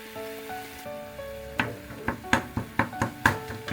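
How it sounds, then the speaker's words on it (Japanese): Ground meat fries with sake in a pan while a wooden spatula breaks it apart, giving a soft sizzle and a run of regular knocking taps, quiet and close, with no talking. "あとはパラパラになるように木べらなどでほぐしながら炒めるだけです"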